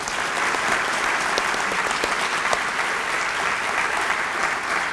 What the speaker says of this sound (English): let's thank your teachers with a warm round of applause.